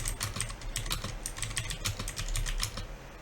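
Fast touch-typing on a computer keyboard, a typist aiming for speed and accuracy. Dense, rapid keystrokes rattle steadily and close by for the whole stretch, with no speech over them.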